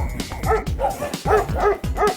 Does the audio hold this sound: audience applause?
no